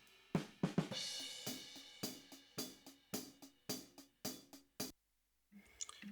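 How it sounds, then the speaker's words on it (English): A dry hi-hat on its own drum mic, recreating an Ash Soan drum sound: a sequence of crisp, close metallic ticks and short splashy hits in a steady groove, then a brief silence and a few quieter taps. "Here we have the hi-hat, which is just support, so dry, it sounds like this."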